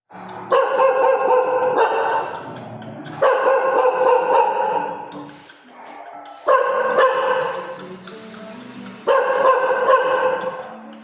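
A dog barks in four loud, drawn-out bursts spaced a couple of seconds apart, close and dominant, with quieter whimpering noises between barks and no talking.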